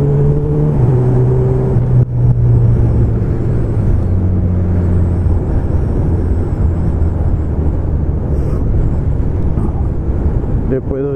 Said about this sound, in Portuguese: Vou trabalhar de moto hoje.